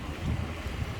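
Wind buffets the microphone on a rainy London shopping street, Oxford Street during the Christmas lights season, a low rumbling gust that swells and eases across a short second with no voices.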